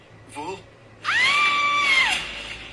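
A woman screams behind a closed door, a single loud, sustained high-pitched cry of about a second, preceded by a brief fainter vocal sound.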